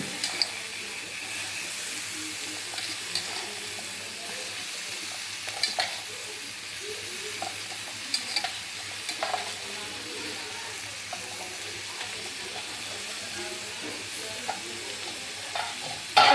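Chopped capsicum sizzles and hisses in a pan with browned onions, a steady frying crackle broken by intermittent scraping stir strokes from a spoon, close and moderately quiet.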